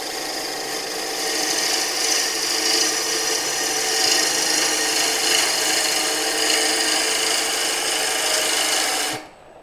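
A wood-turning gouge cutting a spinning bowl on a lathe with a light, bevel-supported cut, giving a steady, close, raspy hiss and whir that holds evenly for several seconds before stopping abruptly.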